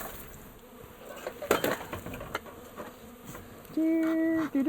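Bees from a wild hive in a cupboard give a low, steady buzz, heard close alongside handling noises and scraping knocks. A louder, sustained drone of a bee near the mic comes late.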